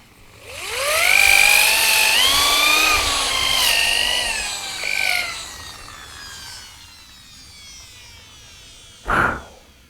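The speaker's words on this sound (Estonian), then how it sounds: "mina lasin elektrirelliga selle augu" An electric drill whines as it bores a hole in wood for a whistle, its motor winding up and holding pitch for several seconds, then trailing off, followed by a short sharp burst near the end.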